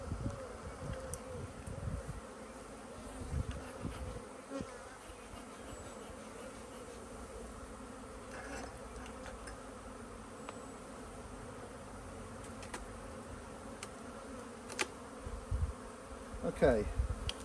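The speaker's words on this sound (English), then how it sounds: "There's a lot of bees flying about, but there's lots of bees in the hive." Honeybees fly in a steady, soft buzzing drone around an open hive during an inspection, continuous throughout with a few louder bumps and handling knocks close by.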